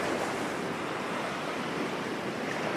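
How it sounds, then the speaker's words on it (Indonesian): Steady sea surf and a light breeze at Teluk Penyu beach in Cilacap, a continuous soft wash of broadband noise without pauses or voices. "hanya ada suara laut dan semilir angin yang menemani"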